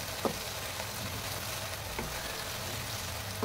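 Tomato, garam masala and green chillies sauté lightly in a pan, giving a steady crackling sizzle with a few sharp spoon clicks against the pan, close and continuous with no talking.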